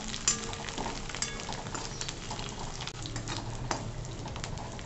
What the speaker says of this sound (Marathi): बारीक गॅसवर परतवून घ्यायचं छान, कच्चेपणा घालवायचा लसूण खोबऱ्याचा